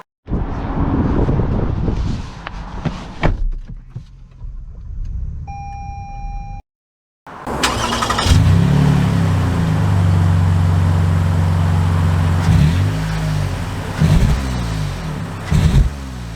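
A 2022 Lexus RX 350L starts up and pulls away, its engine rising in a moderately loud rev with steady road and tyre noise that swells and eases. A brief chime and a short silence come first, and no one talks.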